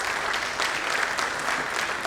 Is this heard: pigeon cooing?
no